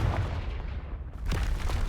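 A Confringo blasting spell goes off in Hogwarts Legacy, a dull booming burst with rumbling low-end crackle that swells again near the end, without any voices.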